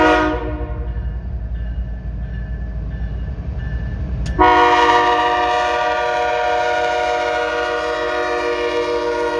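Freight train horn near Minot, North Dakota, sounding from a distance at first, then a loud, sustained close chord blast that lingers and fades slightly, with rumbling in the background.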